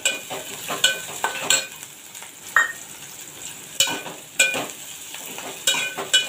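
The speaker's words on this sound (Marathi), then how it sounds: "यामध्ये मी हे थोडेसे काजूचे तुकडे घेतलेले आहेत ते घालणार आहे, ते तेलामध्ये फ्राय करून घेणार आहे" Cashew pieces frying in hot oil with a steady sizzle, interrupted by regular scrapes and clinks as a spoon stirs them around the pan; close and moderately loud, no voices.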